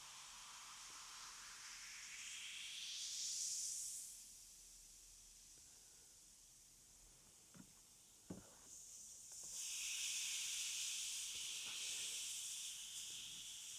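A kitchen-cupboard rust remedy fizzes in a chemical reaction, giving a loud sustained hiss that swells, fades, then returns strongly, with a few small knocks between the bursts and no voices.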